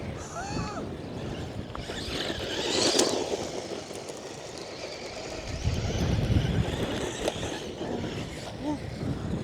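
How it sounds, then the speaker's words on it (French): Strong wind gusts outdoors on a lawn roar and buffet the microphone in a continuous low rumble that swells and eases, while the motor of a Traxxas Mini Maxx RC truck whines thinly underneath. "Ah, le vent il est horrible."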